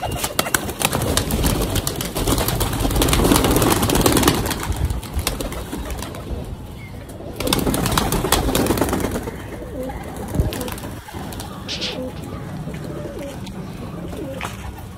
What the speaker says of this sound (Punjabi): ਲੱਗਿਆ ਖੋਲ੍ਹਣ ਕਬੂਤਰ, ਅਤੇ ਬਾਕੀ ਹਲੇ ਉੱਡਦੇ ਪਏ ਆਪਣੇ ਕਬੂਤਰ